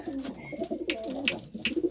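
Madras pigeons kept in a home loft coo steadily up close, their low throaty rolls joined by a few sharp clicks and flutters.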